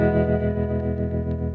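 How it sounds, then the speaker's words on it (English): An electric guitar played through a Fender amp's tremolo effect rings out loud and sustained, with a rich chord pulsing in a steady rhythmic wobble of volume and no talking. "Fender tremolo."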